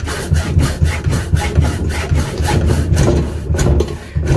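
Blunt hacksaw rasping back and forth through a cut, close and loud, with a steady rhythm of about two strokes per second and no talk.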